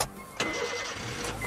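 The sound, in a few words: car engine starting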